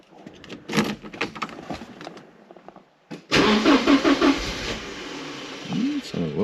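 A 1980s Porsche engine cranks repeatedly without catching, a loud starter-motor churn that comes in bursts, with a short pause before a longer cranking run near the end.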